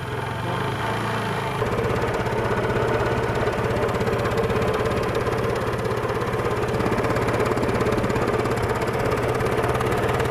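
A Honda CB Unicorn motorcycle engine runs close by during a repair. It holds a steady, throbbing mid-pitched idle with a fast regular knock-like pulse and rises slightly in level after the first couple of seconds.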